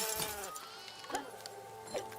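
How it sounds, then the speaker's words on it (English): Sheep in the Once Upon a Puppet PC game bleat in about three short, separate calls. The bleats sit over a steady, tonal game soundtrack that continues throughout. "Can I shoot the sheep?"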